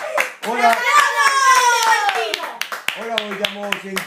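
Audience applause for a guest introduced at a lively Italian entertainment show, scattered claps mixed in under a loud, continuous voice speaking or singing.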